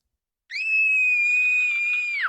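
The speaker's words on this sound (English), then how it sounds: "As a child star, Barbara was famous for her scream." A young girl's sustained, piercing scream from the video game What Remains of Edith Finch, one steady high-pitched cry held for nearly two seconds, loud and alone, ending abruptly.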